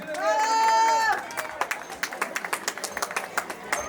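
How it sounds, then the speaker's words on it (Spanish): Crowd applause for the winner of a village pot race in El Arenal, Yahualica, in the Huasteca, a burst of sharp, uneven claps ringing out close by after a brief shouted announcement. "¡Fuerte los aplausos para la ganadera!"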